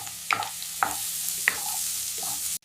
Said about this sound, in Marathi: आता कढईत गाजर आणि मटार घालून हलक्या हाताने परतून घ्या